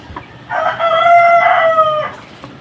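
A single close, loud rooster crow rings out for about a second and a half, a strained drawn-out cock-a-doodle-doo with a falling tail, in an otherwise quiet farmyard with no talking.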